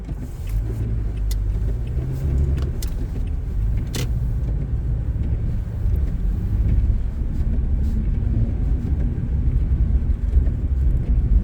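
Car driving along a winter road during a driving road test, steady low engine and tire rumble throughout at moderate speed, with a few faint clicks and rattles inside the cabin and no talking.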